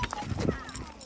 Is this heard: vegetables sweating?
no